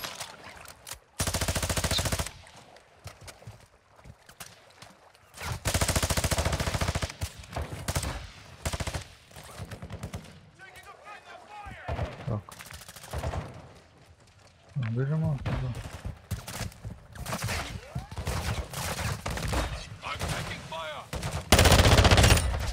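Gunfire in Call of Duty: Warzone 2.0 DMZ at the Koschei Complex: bursts of machine-gun fire and single shots, some loud and near, others distant, with players talking over the fighting.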